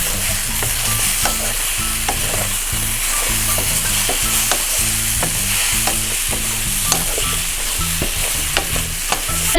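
Cumin potatoes fry over medium-high heat while being stirred, producing a loud close sizzle with repeated scraping and clattering strokes in a busy rhythm, no one speaking.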